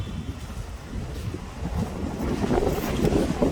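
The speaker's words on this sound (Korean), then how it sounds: "지금 보시면 바람이 상당히 많이 불어요" Strong wind rushes steadily across long plastic sheeting stretched outdoors over succulents, a broad blustery roar that swells louder toward the end, with no voices.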